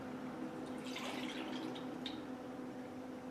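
Warm water pours into a bowl of melted butter for bread dough, giving a steady, soft splashing trickle with faint dripping at the surface.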